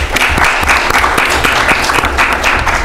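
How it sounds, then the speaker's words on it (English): Audience at a university student government meeting breaking into steady applause, dense, close clapping filling the whole moment. "A round of applause for yourself"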